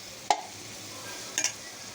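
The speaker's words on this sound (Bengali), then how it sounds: "আর আমি তার সাথে একটু পেঁয়াজের সাথে আমি শুটকিটাকে একটু ভেজে নিব।" Sliced onion and dried fish frying in a pan: a faint, steady hiss broken by two brief, sharp scrapes of stirring.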